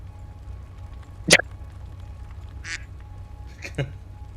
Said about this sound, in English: Was that a duck?